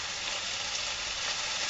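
Pork chop sizzling in a hot pan beside garden vegetables with fennel, a steady, dense crackle of frying fat that runs on without a break and carries no talk.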